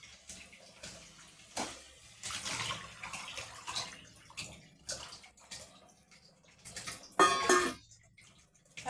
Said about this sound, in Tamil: இப்போ வந்து தண்ணி ஊற்றிடலாம்.